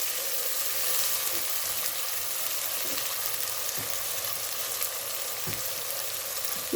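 Onion with ginger garlic paste frying in a pan for a mutton and potato curry, a steady close sizzle running throughout with occasional soft pops and stirring clicks, no talking.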